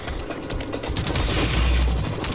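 Rifle gunfire in a video game, a dense rattle of rapid shots with low booming thumps, loud and continuous across a short stretch.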